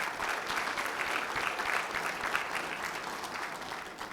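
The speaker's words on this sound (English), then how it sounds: "Let's give her a round of applause." Audience applause fills a breakfast event hall after a speaker introduction, a dense, steady clapping from a sizeable crowd, fairly loud and sustained throughout without talk over it.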